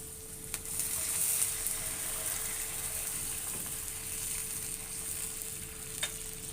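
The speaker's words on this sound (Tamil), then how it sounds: "இப்போ இதுக்கு தேவையான அளவு தண்ணி ஊற்றிக்கிறேன்." A steady hiss of sizzling in a pan of potato masala, with a gentle rush as water is added, plus a few faint clinks.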